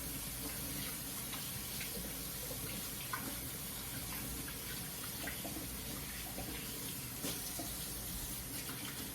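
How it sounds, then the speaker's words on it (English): A kitchen tap runs steadily as flour is washed off hands after making biscuit dough, a continuous close splashing gush with small irregular spatters. "Let me go ahead and wash some of this off my hands."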